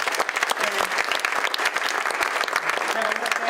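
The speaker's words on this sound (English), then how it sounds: "how about a big round of applause for Kevin for pulling all this together?" Audience applause fills a business event on biomanufacturing in Massachusetts, a steady, dense wash of clapping hands that holds for several seconds.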